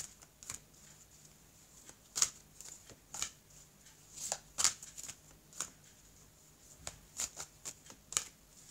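Oracle cards are shuffled by hand for a card draw, giving soft riffling and slapping bursts at irregular intervals, quiet and close with a faint background hum.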